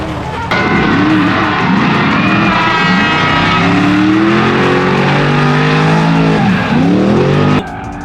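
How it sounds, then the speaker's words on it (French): A race car sets off on a French drift championship course at Val d'Argenton, its engine revving hard and sweeping up and down in pitch with tire squeal, loud and close for most of the clip before cutting off. "Prochain pilote à s'annoncer, vous l'aurez reconnu, le couping de Jordan Lapelosa qui part"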